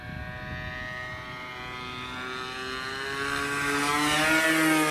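An RC Sbach 342 model plane powered by an O.S 95AX engine with a new propeller flies overhead, a continuous high whining buzz with shifting pitch that grows louder as it approaches, no talking.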